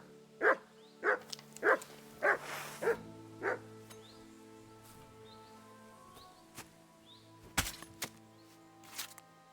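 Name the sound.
dog Mutt barking in Kingdom Come 2 video game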